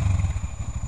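Motorcycles passing over a bridge, a steady close engine rumble with some rattling clatter, loud and continuous with no talk.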